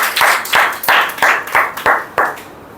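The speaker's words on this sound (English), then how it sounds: "Once again, a big round of applause for him." Sharp claps land in a slow, even rhythm of about seven beats, close and loud with a short echo after each, more like one person clapping than a full audience.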